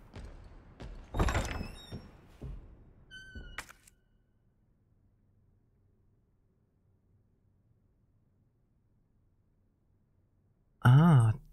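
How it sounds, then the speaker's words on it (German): A door opening in the Resident Evil 2 Remake horror game, a short mechanical creak heard at the end after quiet ambience, with speech earlier. "Das ist die Tür."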